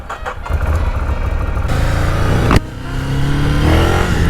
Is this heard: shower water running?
no